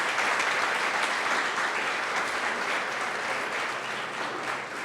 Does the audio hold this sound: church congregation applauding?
yes